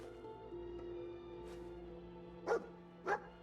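A dog companion in the video game Fallout 4 gives two sharp, separate barks close by, with a few fainter yips earlier, over a steady low game drone.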